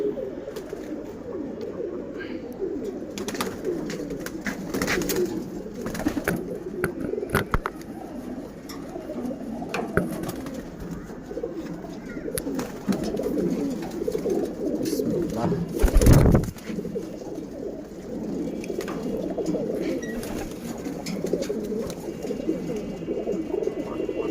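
Pigeons cooing in a loft while waiting for water, a low, continuous murmur of overlapping coos close by, with occasional clicks, a brief louder bump and some talk.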